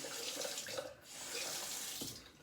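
Running tap water streams steadily into a sink as a razor is rinsed during a traditional wet shave, a close, continuous hiss with a brief dip in the flow midway.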